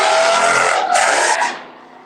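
A street-racing car outside in Houston revs hard and screeches, a loud roaring, squealing burst that holds for over a second before quickly fading away.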